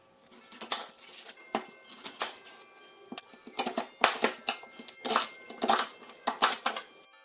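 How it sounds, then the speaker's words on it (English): A knife chopping a peeled onion into small cubes on a cutting board for a German Christmas roast goose meal, producing steady, close, repeated knocks and crunchy cuts in quick rhythmic bursts. "Now we can remove the skin of our onion and cut it also to smaller"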